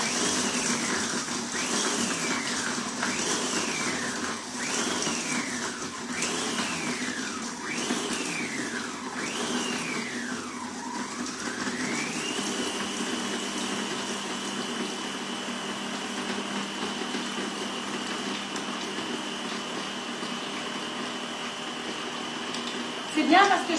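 An All-Clad kitchen robot food processor set to speed 13 runs steadily, its motor pitch rising and falling in repeated cycles of spinning and pausing before settling into an even, continuous hum.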